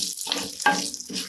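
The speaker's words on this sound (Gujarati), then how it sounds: "મસાલાને પહેલાં થોડા ચલાવી લઈશું." Yellow and black mustard seeds frying in hot oil with lentils and cumin for Gujarati chutney, a close crackling sizzle with scraping strokes as the spices are stirred, brief and without talk.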